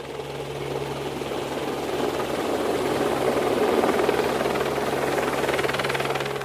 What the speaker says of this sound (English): the helicopter is coming now